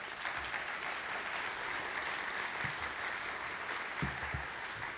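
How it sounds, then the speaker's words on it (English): Steady clapping rises from an audience at a spring convocation for musicians from a university school of music, even and fairly soft, heard alone without speech. "Can we give them a round of applause?"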